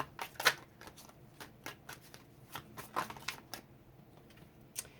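Tarot cards being shuffled close up, a run of quick riffling flutters and soft slaps in irregular bursts, quiet with no talking.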